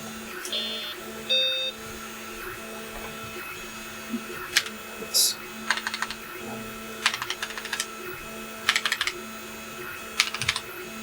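Keys clatter on a BBC Model B home computer keyboard in short irregular bursts, with a steady printer whine and beeps running underneath throughout.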